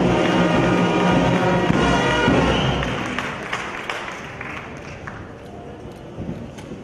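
A crowd applauds a nominee at a French awards ceremony. The dense clapping starts loud and full, then gradually thins and fades over several seconds.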